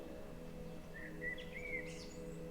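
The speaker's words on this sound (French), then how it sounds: "les chants des oiseaux, les bruits de la nature à vos oreilles" Faint outdoor summer birdsong, a few thin chirps and short warbling calls rising over a steady low background hum, soft and distant.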